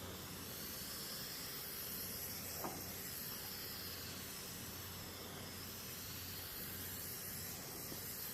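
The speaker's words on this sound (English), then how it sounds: "after spraying a couple cans of paint" A steady, faint hiss of aerosol spray runs continuously throughout, with no voices and only a tiny click partway through.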